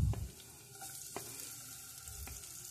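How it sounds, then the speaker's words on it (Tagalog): Garlic and onion sautéing in hot oil in a pan for a Filipino papaya dish, a soft steady sizzle with a few stirring clanks near the start, fairly quiet and without talk. "Tapos gigisa natin yung bawang sibuyas."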